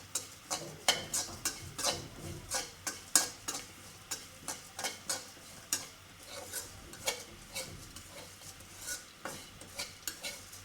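Bori lentil dumplings frying in hot oil in a pan, with a steady run of sharp scraping and clinking stir strokes over a soft sizzle, close and fairly loud with no talking.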